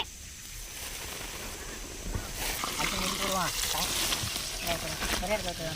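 Hot milk pours in a steady hissing stream starting partway through, while people talk nearby over it, making caramel bread pudding cake in a village.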